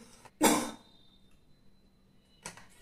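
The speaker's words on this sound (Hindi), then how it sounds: "बेटा बाहर जाके खांस लो" A classroom cough: one sharp, fairly close burst, followed by quiet and then a fainter second cough near the end, with no talking.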